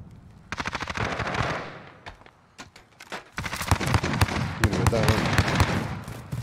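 Rapid automatic gunfire and single shots from an online Call of Duty Warzone battle royale match, loud bursts broken by a short lull, then dense firing again with faint voices underneath.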